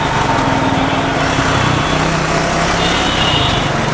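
A Triumph Speed 400 motorcycle engine runs with a steady, close buzzing drone during a downshift, holding an even level throughout with no speech.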